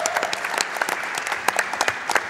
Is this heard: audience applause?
yes